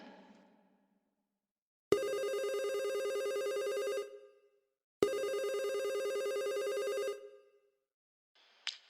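Classic telephone bell ringing twice in long, bright, loud bursts of about two seconds each with a pause between, in a comedic Christmas sketch setting; a brief faint click or sound follows at the end.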